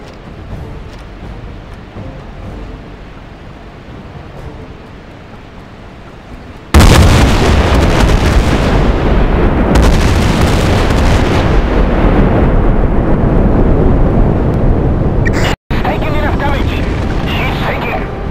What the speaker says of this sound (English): Coming under enemy fire.